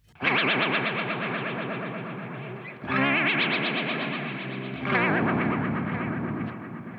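Electric guitar run through a Bigsby vibrato pedal at a fast rate, producing a warbling, wobbling chord in three sustained strums, loud and continuous with pulsing pitch modulation.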